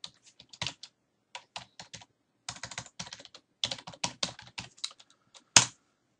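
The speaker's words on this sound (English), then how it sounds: "and then type in a new name." Keys clack on a computer keyboard as a new file name is typed, in short irregular bursts of close, crisp taps with a final louder keystroke near the end; no voices.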